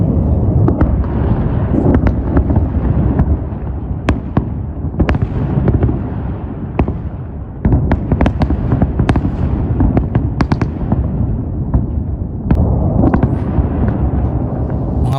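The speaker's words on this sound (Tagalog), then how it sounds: "kung saan makikita ang sunod-sunod na mga pagsabog" Successive explosions from airstrikes on sites in Iran, heard as a dense, continuous series of loud booms and sharp cracks from nearby and farther off, running without a break.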